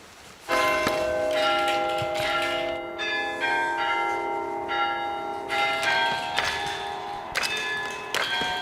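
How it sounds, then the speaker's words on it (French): Carillon church bells played as a melody, sustained ringing tones layered in changing chords, loud and steady throughout with no talk. "Jean, encouragé par Pierre, a rafistolé le carillon de sa jeunesse."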